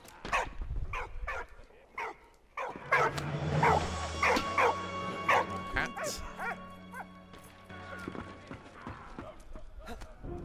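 Dog in the World War I game Valiant Hearts gives a run of sharp yips and barks with whimpers, fairly close and moderately loud, while someone talks over parts of it.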